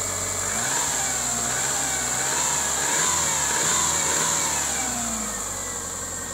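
Subaru Impreza Outback Sport engine idling steadily close by, a smooth continuous hum with a slight rise and fall in revs, heard alone without speech; the car is said to have possible head gasket trouble and to overheat.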